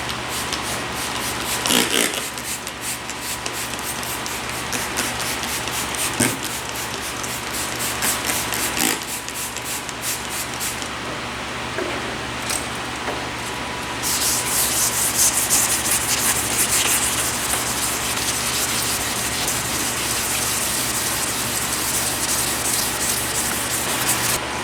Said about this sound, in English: Well, that 2000 is not going to cut it, unless I'm going to stand here and sand for 10 hours.